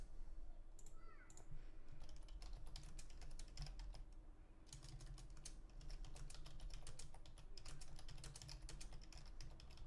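Steady keyboard typing with bursts of rapid clicking keystrokes, fairly quiet and continuous, with a low background hum throughout.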